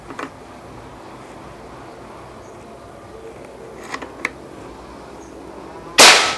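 Quiet background with a few small clicks, then one sharp, loud shot from a PCP air rifle, a Pasopati Big Game, cracks out at the very end.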